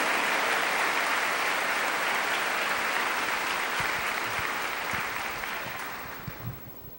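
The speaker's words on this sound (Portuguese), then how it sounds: "Aplaudir essa palavra" A church congregation applauds after a scripture reading, a dense, loud wash of clapping that holds steady and then gradually fades out toward the end.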